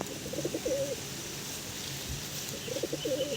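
Giribaz pigeon, a caught bird from Nadia, gives two clear bursts of soft throaty cooing, one near the start and another near the end, close and alone with a quiet pause between.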